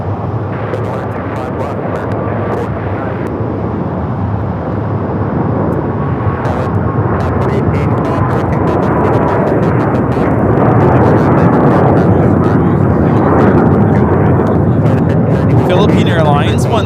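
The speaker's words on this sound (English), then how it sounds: "Airlines 113 taking off to Manila on the 777-300ER Mabuhay." A Philippine Airlines Boeing 777-300ER takes off from LAX bound for Manila, its engines roaring in a loud, sustained wash that builds gradually, while people talk intermittently over it.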